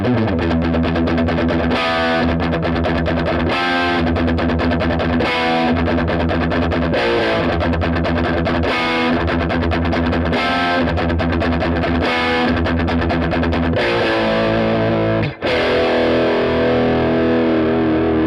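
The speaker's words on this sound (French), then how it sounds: "Donc le gain à fond, ce n'est pas de la distorsion, ça va être juste le son de l'ampli poussé avec le showbucker." Fender American Professional HSS Stratocaster with maple neck and Shawbucker pickup, played through an amp with gain fully up into natural overdrive: loud, sustained driven guitar chords and riffs running continuously, with a brief cut near the end.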